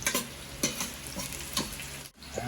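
Garlic and onion sauté in a hot pan with a steady, close sizzle, broken by the scrape of a utensil stirring the pan every half second or so.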